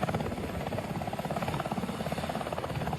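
A helicopter carrying troops flies near a hilltop, its rotor beating in a rapid, even pulse that stays steady and fairly loud throughout, with no voices.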